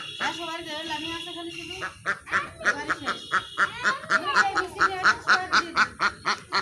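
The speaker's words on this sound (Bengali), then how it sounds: "হাঁসও খেলা দেখার জন্য চলে আসছে" Ducks that have wandered over during a children's game quack loudly and repeatedly nearby, in a rapid rhythmic series that grows more insistent toward the end.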